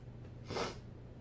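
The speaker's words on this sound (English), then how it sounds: "Oh, pardon me, I've got the sniffles." A single short, quiet nasal sniff or snort against faint background hiss.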